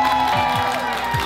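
Crowd at an Energy pyjama party held at IKEA applauding and cheering, a busy mix of clapping and voices with tonal sweeps from music or shouts, moderately loud throughout.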